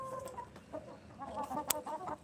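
Farm chickens clucking close by in the morning, a busy run of short overlapping clucks and squawks with one sharper call partway through, no talk.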